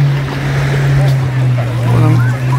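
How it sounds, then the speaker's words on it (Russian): A motorboat on the sea near a beach at Lazarevskoye, Sochi, gives off a steady low engine drone under the wash of waves and wind, with a voice speaking over it. "Мой любимый и родной. Вон он, катер."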